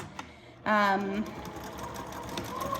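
Sewing machine stitching quilt binding made from strips of alternating coloured stripes. One brief, close burst of motor whir lasts about half a second, followed by quiet room tone.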